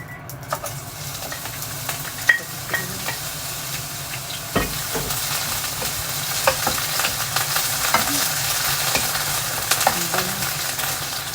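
Onion sizzles steadily in a little oil in a pan while being stirred, with scattered scraping clicks from the utensil over a continuous hiss, close and fairly loud, no voices.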